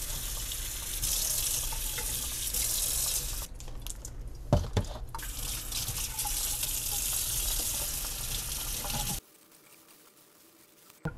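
Water runs and splashes steadily from a tap as plant roots are submerged, with a brief quieter break partway through before the flow stops and near silence follows.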